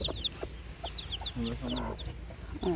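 Chickens clucking on a farm, several short clucks and calls in close succession, fairly near, over steady background noise.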